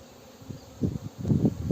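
Honeybee drones flying around a hive with raised false queen cells, a low droning buzz that swells in several uneven pulses and grows louder toward the end, close by and with no voices.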